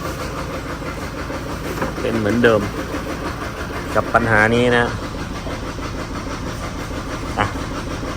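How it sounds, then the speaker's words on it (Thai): A Chevrolet Colorado Z71 pickup engine with a shaking fault idles roughly with an uneven, shaking rumble, while someone talks over it in short bursts. "เราลองสตาร์ทเครื่องยนต์ดูอีกทีนะ เป็นเหมือนเดิมนะครับ"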